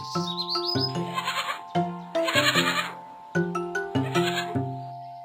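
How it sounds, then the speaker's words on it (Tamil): A cartoon lamb bleats in a series of loud, quavering cries, several in close succession over a sustained tonal background. "இது ஆட்டுக்குட்டி."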